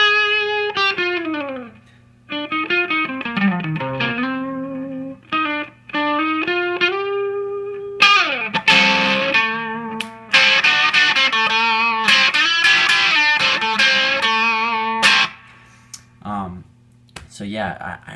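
Electric guitar through a Catalinbread RAH pedal set clean with the mid range cranked, playing bright sustained chords and sliding single notes, loud and alone with no talking, notes ringing out with brief gaps between phrases.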